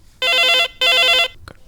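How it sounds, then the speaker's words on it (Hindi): A telephone rings twice in short electronic bursts, loud and close, with a brief pause between rings and no voices, during a farmers' call-in radio programme. "लगत है संगवारी के फोन हवे, तो फोन ला उठा ले आ जाए।"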